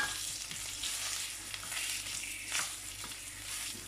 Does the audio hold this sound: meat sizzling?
yes